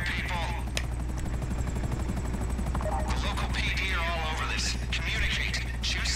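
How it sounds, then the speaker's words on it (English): A helicopter flies in Grand Theft Auto V, its loud, constant rotor and engine drone running throughout while people talk over it. "Yeah, I'm in a chopper."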